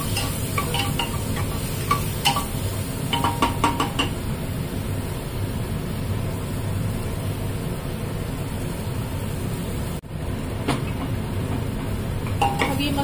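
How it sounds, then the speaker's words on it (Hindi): Spice masala with rock salt is stirred in a pan, bursts of metallic spoon scraping and clinks over a steady sizzle, with one brief dropout partway through. "एक चम्मच सेंधा नमक, और बस इसे चला लेंगे।"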